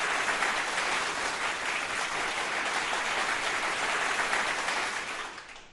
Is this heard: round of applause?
yes